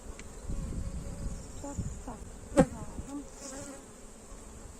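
Honey bees at an opened hive from a split made with a queen, a steady close droning buzz that carries on throughout, with one brief sharper knock partway through.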